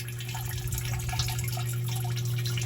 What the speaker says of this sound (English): the pump, and basically what the pump does is it sucks the water up